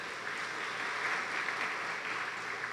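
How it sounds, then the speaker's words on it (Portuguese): A church congregation at a family service claps together, a steady, dense patter of many hands heard from a distance, quiet and unbroken for the whole stretch. "Uma salva de palmas para nós."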